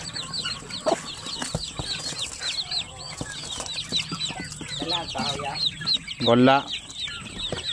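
Four-day-old chicks peep in a dense, busy chorus of high chirps, steady throughout, with a brief nearby voice and a few soft knocks and handling sounds.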